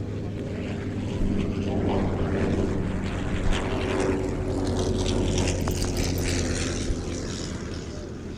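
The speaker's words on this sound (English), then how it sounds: "We've got monoplane and biplane now in the air with the Sopwith Pup airborne to join the Bristol M1C." A Sopwith Pup biplane and a Bristol M1C monoplane fly together at a summer air show, their propeller engines giving a steady droning hum at moderate distance that swells slightly in the middle, with faint commentary underneath.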